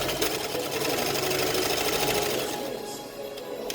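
A sewing machine runs steadily in a close, continuous rapid whir while back stitching the end of a seam on a homemade dog coat, slowing slightly near the finish.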